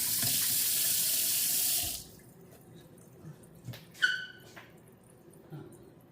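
Hands rinsed under a running kitchen tap for about two seconds, a steady loud water rush that cuts off abruptly, followed by quiet drips and small clinks.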